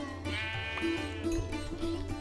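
A sheep bleats several times in Minecraft in short, wavering calls over a steady low background hum.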